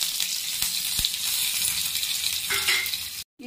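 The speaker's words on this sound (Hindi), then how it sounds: "ये देखिए, ये तड़का इसमें गया।" Hot oil tempered with mustard seeds, garlic, chilies and curry leaves sizzles loudly and steadily in a pan, with a couple of light clinks of a utensil, ending abruptly.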